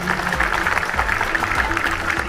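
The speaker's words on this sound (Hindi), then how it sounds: "अब हम अपने चीफ गेस्ट रहमान इब्राहिम साहब को दावत देते हैं कि वो स्टेज पर आए आप सबकी भरपूर तालियों में।" Steady applause from a crowd at a pigeon racing prize distribution in Pakistan, dense continuous clapping at moderate loudness with a faint low rumble beneath.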